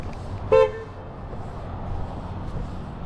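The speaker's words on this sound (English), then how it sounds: "Love the horn feedback when you lock the doors." A single short horn chirp from a 2024 Kia Forte LXS as its doors lock with the key fob, loud and close against quiet outdoor background.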